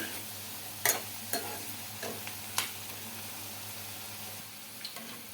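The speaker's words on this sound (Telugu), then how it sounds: "బాగా గోల్డెన్ కలర్ వచ్చే వరకు ఫ్రై చేసుకోవాలండి కాకరకాయ ముక్కల్ని" Bitter gourd pieces fry in hot oil, a steady close sizzle with a few sharp clinks of a spatula against the pan, no voices.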